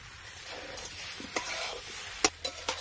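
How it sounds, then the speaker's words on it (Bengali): Fried prawns going back into a pan of spiced potato and jackfruit masala and being stir-fried, heard as a soft sizzle with scraping stirs and a few sharp spatula knocks near the end. "আবার এবার এর মধ্যে ভেজে রাখা চিংড়ি মাছগুলো দিয়ে দেব"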